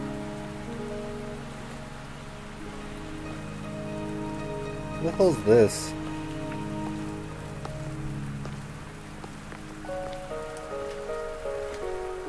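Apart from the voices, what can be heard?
rain falling in the video game Wuthering Waves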